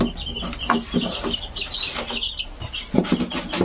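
Young chicks peep and cheep in a styrofoam box as they are handled, with scratchy rubbing and shuffling against the box and a busy, close, uneven chorus throughout.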